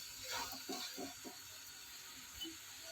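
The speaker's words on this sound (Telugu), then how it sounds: "తర్వాత కొంచెం అంటే కొన్ని వాటర్ పోసుకుందాం." Water is poured into a pan of cucumber egg curry, producing a faint, brief splashing trickle over a low background hiss.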